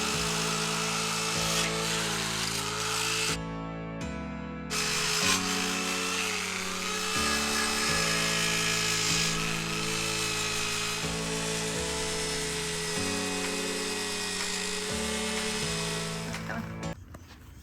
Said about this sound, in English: Doing some sanding, some grinding, getting it all smooth.